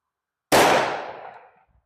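One loud, sharp 10mm pistol shot fired with Eclipse brass reloads, a single crack that rings and decays over about a second in otherwise silent surroundings.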